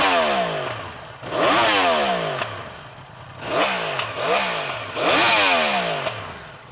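A 2018 Yamaha R1 on its stock exhaust revs repeatedly at close range, each sharp rise in pitch followed by a falling drop back toward idle, loud and mechanical, with no talking.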